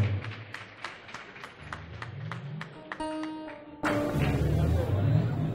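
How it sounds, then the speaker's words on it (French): Applause at a party congress begins as rhythmic, evenly spaced clapping, is broken by a brief musical tone, then swells into broader crowd noise heard from a distance. "Merci d'applaudir plus fort."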